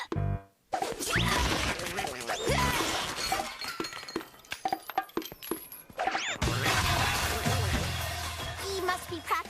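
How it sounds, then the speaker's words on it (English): Objects drop and crash from clumsy juggling in a cartoon: repeated loud shattering, clattering and clinking impacts come in rapid, uneven bursts, with brief quieter gaps between the messy crashes. "He must be practicing his juggling. He's juggling? Sounds like he needs more practice."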